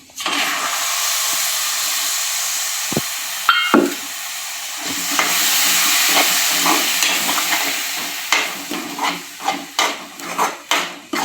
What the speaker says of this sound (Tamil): நல்லா வதக்கி நல்லா அந்த எண்ணெய் பிரியணுங்க.